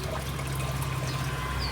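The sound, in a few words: water being poured into an air cooler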